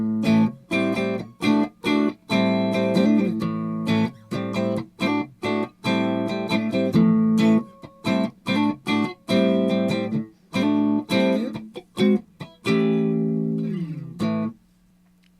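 A Fender Mustang electric guitar played with both pickups on and in phase, clean with no delay or reverb: a run of distinct plucked notes and short chords in an irregular rhythm, ending on a sustained note.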